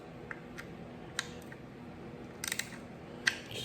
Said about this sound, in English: And now we will tighten it down to 10 Newton meters.